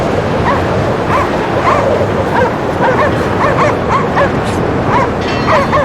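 Dogs barking and yipping in the video game Cryostasis, with repeated short, high-pitched calls scattered over a dense, loud background roar.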